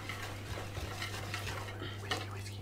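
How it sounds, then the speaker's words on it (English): Batter for toad in the hole is whisked thoroughly in a bowl, with quick, steady clinking and scraping of the whisk against the sides, continuing without talk. "So whisk that really thoroughly. You don't want any lumps in your toad"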